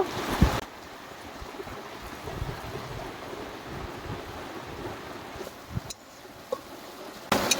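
Water goes into frying mustard-based spice paste for sorshe paneer, raising a steady rushing hiss with sharper splashy bursts near the start and end, close and moderately loud, without talk.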